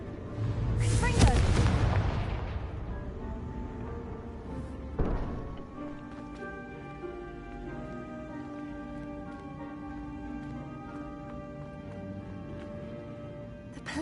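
A Confringo blasting spell goes off in Hogwarts Legacy, a loud booming burst near the start that fades into a rumbling tail, followed by a smaller thump and a quieter stretch of game ambience.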